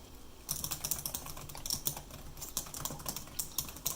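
Rapid, steady typing on an Alienware Area 51m laptop keyboard, with a continuous patter of light key clicks close by.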